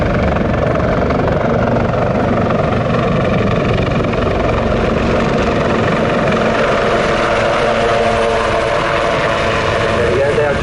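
Display helicopters flying close together at the Southport Airshow, a loud, continuous rotor thrum and engine roar sustained throughout with steady intensity, a commentator speaking over the noise.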